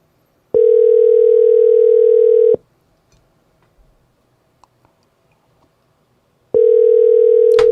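Two long, steady ringback tones from a phone call, each about two seconds, separated by a quiet pause with faint clicks.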